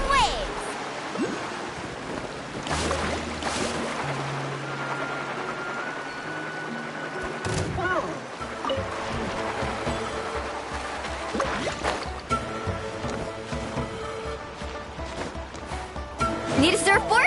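Surfing across waves in Genshin Impact's Natlan region, with a steady rush of water and splashing surf running throughout, layered with game music and effects, and a voice speaking over it.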